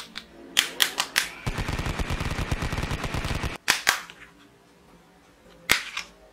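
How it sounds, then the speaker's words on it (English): Musical Chinese plastic toy gun with LED light and sound firing a loud electronic burst of rapid machine-gun-style rattling for about two seconds, framed by sharp single clicks and pops before and after. "LED light and sound, musical Chinese toy gun."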